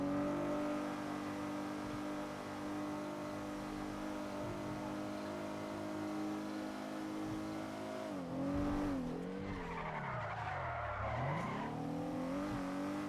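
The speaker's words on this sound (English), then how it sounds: "I just love when you brake like that. It sounds like a TIE fighter." A car in a video game brakes hard and skids, its engine droning steadily before a sharp tire squeal and falling whine near the end; no talking.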